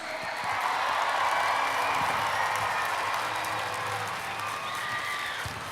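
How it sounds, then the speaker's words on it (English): Audience applause for association directors at the opening ceremonies of a 2018 world finals event, steady dense clapping and crowd noise sustained throughout, fairly loud and broad. "one last round of applause for all of our association directors"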